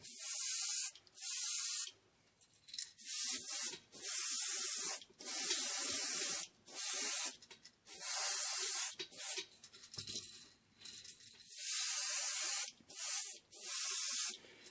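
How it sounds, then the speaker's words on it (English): Spray paint hissing over a translucent jerkbait minnow fishing lure in repeated short, loud bursts with brief pauses between, no voices. "All right, so I'm just going to spray it right over the top of all this"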